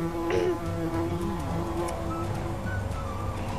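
A bee buzzing steadily near flowers, a faint continuous drone with slight shifts in pitch, heard alone.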